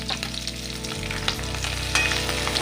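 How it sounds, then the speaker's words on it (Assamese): Small fish sizzle loudly and steadily in a frying pan while being turned over, with a few soft clinks and scrapes from the flipping over a constant close hiss. "এয়া মাছখিনি এতিয়া মই তল-ওপৰ কৰি দিম।"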